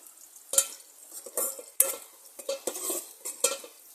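Ugali and local sagaa vegetables cooking in a pot over an outdoor fire, with close scraping and stirring clinks of a utensil against the pot in irregular bursts over a soft background hiss.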